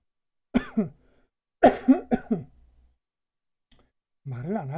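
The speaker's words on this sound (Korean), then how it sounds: "이렇게 이제 수업을 찍으려고 말을 하면 기침이 나와요" A lecturer coughs while recording a class: two bursts, a single cough and then a quick cluster of three, close and loud, with silence between and a voice starting at the end.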